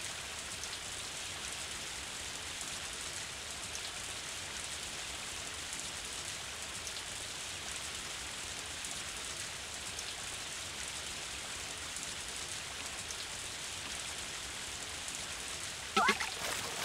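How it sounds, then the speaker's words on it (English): Steady, even rain hisses throughout on a farm in Story of Seasons: A Wonderful Life, a constant wash of patter with a brief sharper knock near the end, with no one talking. "Hopefully this rain keeps up."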